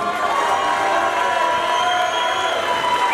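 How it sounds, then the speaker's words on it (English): Boxing crowd in Portsmouth cheering and applauding two fighters in the ring centre, a loud sustained roar of voices and clapping with shouts and whistles. "Big round of applause for these two, please"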